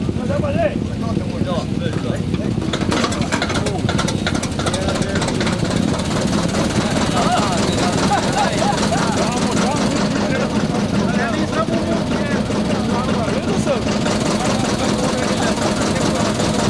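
A newly restored 1953 Steyr tractor engine runs steadily at a vintage vehicle gathering, a loud continuous low chugging with rapid knocking pulses, while someone talks over it.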